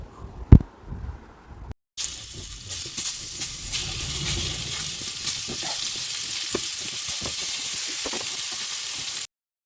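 An iron pan on a gas stove sizzles steadily as leftover water boils off, a continuous close hiss after a brief knock and a short pause.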